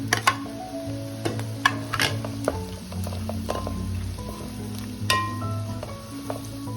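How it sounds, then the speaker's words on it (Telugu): Onions, green chillies and tomatoes fry in oil while a spoon scrapes and stirs them around the pan, with sharp metallic clinks and knocks over a continuous close sizzle, and no voices. "ఈ ఉల్లిపాయలు పచ్చిమిర్చి అలా వెళ్ళింది మొత్తం మంచిగా వేగేలాగా కలుపుకుంటూ ఉండాలి"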